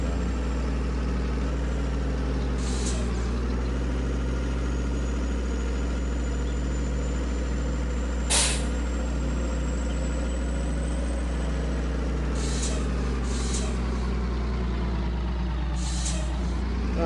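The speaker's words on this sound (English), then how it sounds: "why am I hearing air brakes?" Truck air brakes hiss in several short bursts over a steady, loud low idling engine rumble on a farm, with one sharper release in the middle and more hisses toward the end; no one speaks.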